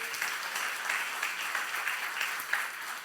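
Church congregation applauding during a youth service sermon, a steady continuous wash of clapping at moderate level with no voices over it.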